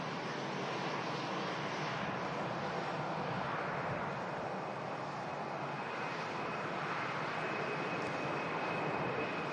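A Helvetic Embraer E190 jet roars steadily through its departure roll at Manchester Airport in strong gusty wind, a broad, continuous engine rumble at moderate distance with no voices.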